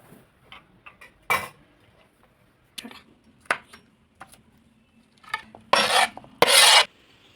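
A knife cutting fresh mushrooms on a board: scattered faint taps, then a few louder, longer scraping strokes near the end, close and alone.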